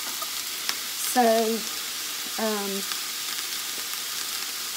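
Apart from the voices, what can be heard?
sautéing in a pan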